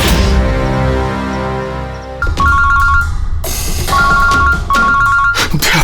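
A telephone rings in repeated electronic bursts, loud and close, over a dramatic music bed in a crime drama scene.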